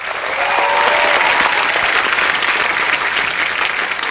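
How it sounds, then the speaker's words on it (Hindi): A studio audience applauds on a Hindi comedy talk show, loud continuous clapping that swells quickly and stays full and close throughout. "इनके लिए भी जोरदार तालियां।"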